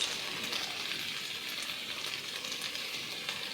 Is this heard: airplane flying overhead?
no